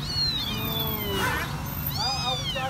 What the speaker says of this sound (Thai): แมวบ้านเขาดิ